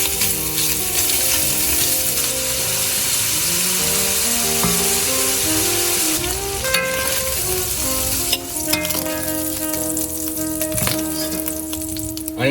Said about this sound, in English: So this is some hot Italian sausage going in.